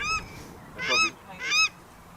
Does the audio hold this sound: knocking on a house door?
no